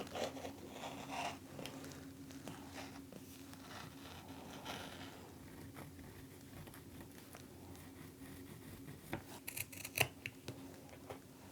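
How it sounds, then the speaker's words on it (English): Scissors snip through fabric while a sewn clutch is trimmed, the cuts quiet and intermittent with soft handling rustles and a few sharper snips near the end, no talking. "I've got everything all trimmed down and my corners cut out for those little darts on the side."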